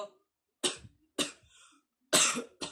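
A beatboxer imitates a cough as a snare sound with the voice, giving four sharp, breathy cough-like bursts spaced about half a second apart, close and fairly loud, with the last two coming quickly one after another.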